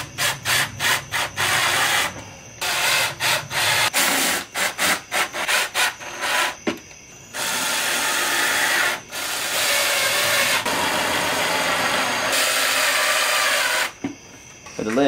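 Screws are driven into wooden tabs of a homemade flow-through worm composter with a power driver. Short rapid bursts come first, then longer sustained whirring runs, all close up with no talking.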